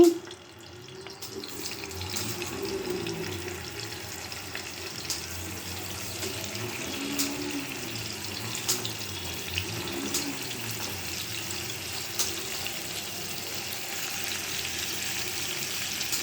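Fish sizzle steadily in hot oil, a continuous, even crackling hiss that holds at moderate loudness throughout without any talk.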